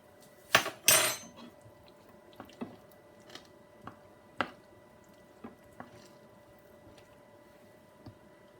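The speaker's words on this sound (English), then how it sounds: "So I'm going to add in my drained pasta" Drained pasta tipped into a thickened creamy chicken and ham sauce in a pan, with a loud wet slop and scrape, then a run of soft squelches and spoon taps as it is stirred, close up and without speech.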